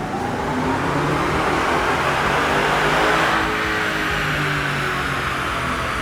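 A car on a dynamometer at UTI Long Beach, its engine revving hard in a loud sustained roar that climbs in pitch, peaks around the limiter, then eases slightly, with no voices.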